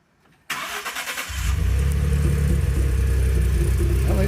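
A 2011 Ford F-150 with a suspected exhaust leak starts up nearby and settles into a loud, steady idle with a droning rumble.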